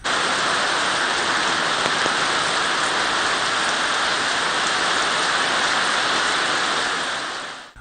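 Heavy rain falling steadily in Islamabad during a downpour, a dense continuous hiss with no pauses, loud and close, with no voices over it.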